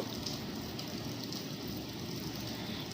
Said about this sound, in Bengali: আমি এপাশ ওপাশ করে লেগ পিসগুলোকে ভেজে নিচ্ছি